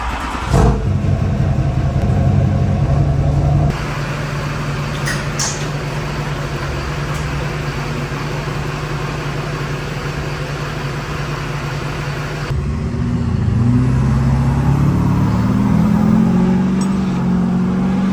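A Duramax diesel truck with a hood stack exhaust drives steadily, its engine droning and rumbling continuously for the whole stretch, with a brief swell of revving near the end, heard from inside the cab.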